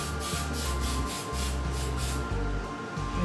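Hairspray hisses from a can onto a curled wig in several steady bursts, close and loud, with a rhythmic rubbing texture and no talking.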